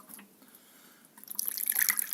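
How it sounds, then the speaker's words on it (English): Fresh water poured into a bowl of soaking seeds, a light trickle building into a louder splashing pour over the last second, close by and alone. "we fill it up with just fresh water"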